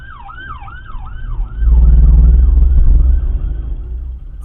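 A wailing emergency siren sweeps up and down, loud and close, then a heavy low engine rumble swells beneath it as a vehicle passes.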